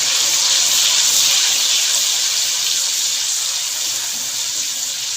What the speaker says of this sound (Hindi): यहाँ पे थोड़ा सा हम पानी डालेंगे।